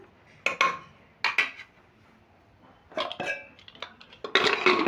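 A ladle stirs gourd, chana dal and ginger in a metal pot, giving a few sharp clinks and scrapes in short separate bursts with quiet gaps between them, close up and without speech.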